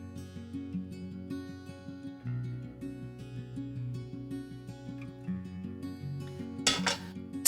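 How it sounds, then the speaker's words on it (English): Butter swirled in a heating pan for a soft French omelette: faint metallic pan shifting and light scrapes under a steady low background tone, with a brief clatter near the end. "I'll just make sure to swirl the butter around so it really coats the pan"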